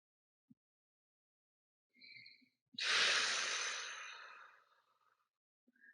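Slow yoga breathing: a short, soft inhale followed by a long, drawn-out exhale that gradually fades, close and quiet in an otherwise silent room.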